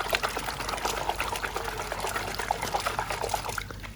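Water trickles and pours out of a toy car found while searching outdoors, a steady wet dribbling with small splashy bursts throughout, close and moderately loud.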